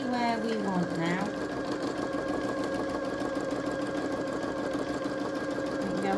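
A Janome sewing machine stitches fabric in a fast, even, continuous mechanical whir with a steady rhythm, close by, while a person talks over it.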